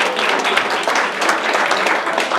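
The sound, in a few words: applause from audience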